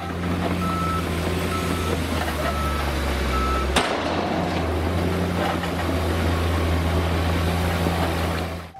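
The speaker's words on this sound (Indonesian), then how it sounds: "Di sini ada mobil truk pasir." A toy sand truck gives off a steady, loud reversing beep that repeats throughout, with a continuous motor-like drone underneath and a brief knock partway through.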